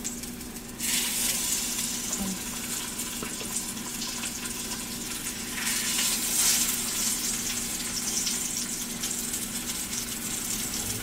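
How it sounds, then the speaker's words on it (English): Steady, close sizzling of chicken frying in a hot pan, a continuous crackling hiss that swells slightly at moments, with no talking. "You want to hear that sizzle."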